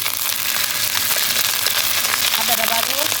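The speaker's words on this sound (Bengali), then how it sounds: "আদাটা ভাজবো" Ginger tossed into hot oil with bay leaves and already-fried onions sizzles steadily in a pan, a dense continuous crackle with faint stirring, fairly loud throughout.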